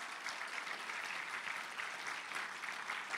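A church congregation at an Indonesian GKI Sunday service applauds in a soft, even wash of clapping that stays constant and distant throughout.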